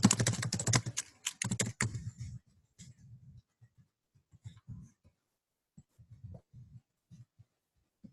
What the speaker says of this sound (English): Excuse my typing, everybody.